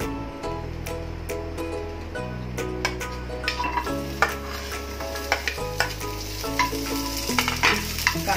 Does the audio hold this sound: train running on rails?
no